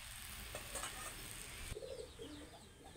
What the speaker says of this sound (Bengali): এদিকে রান্না চলতেছে